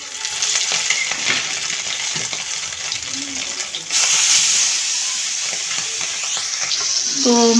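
Pangas fish, seasoned with turmeric, chili and salt, frying in hot oil in a home kitchen: a steady, close sizzle and hiss with occasional stirring clinks, louder in the second half.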